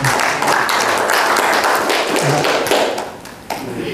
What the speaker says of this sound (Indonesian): sangat luar biasa kita tepuk tangan untuk Bapak Bupati